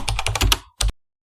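A computer keyboard is typed on while entering a folder name: a quick burst of several close, crisp keystrokes, a brief pause, then one final key press.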